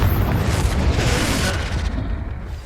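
A Confringo blasting spell exploding in Hogwarts Legacy: a loud, close, rumbling blast that sustains and then slowly fades.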